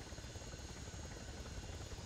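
A helicopter in the video game Arma 3 thrums steadily with a continuous rotor and engine drone, close and unbroken.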